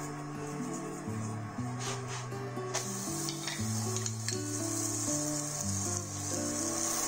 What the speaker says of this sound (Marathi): तसाच आपण दुसरा पराठाही शेकून घेणार आहोत. आता ह्या पराठ्यालाही आपण तसंच छान बटर लावून घेतोय.